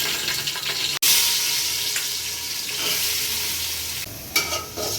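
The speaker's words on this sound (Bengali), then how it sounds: "গোটা গরম মশলাটা এর মধ্যে ফোড়ন দিয়ে দিচ্ছি" Loud, continuous sizzling of whole garam masala spices frying in hot ghee, broken by a sharp click near the start and a brief stir later on.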